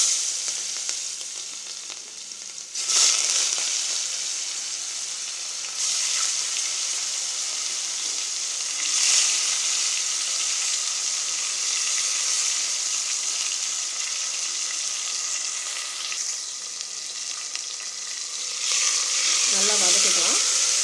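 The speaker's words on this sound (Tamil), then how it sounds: "நல்லா வதக்கிக்கலாம்." Chopped onions and tomato sautéing in a pan for Tamil-style mutton kuzhambu, a steady, bright sizzle with a few louder bursts as they are stirred, continuing to the end.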